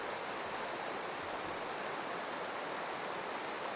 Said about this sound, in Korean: 신성한 만년설에서 내려오는 힘찬 물소리에 발걸음을 재촉합니다